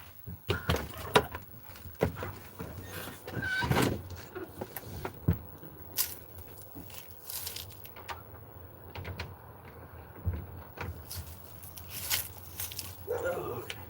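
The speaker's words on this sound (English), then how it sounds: "Let me open this door real quick." An RV door is opened in a few quick moves, with clicks, clunks and light rattles over a low background hum, and faint voices murmur in the background.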